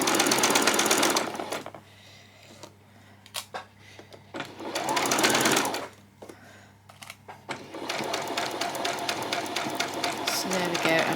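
A sewing machine runs in bursts while stitching a peasant skirt, loud close whirring runs separated by pauses filled with quieter handling and a voice talking.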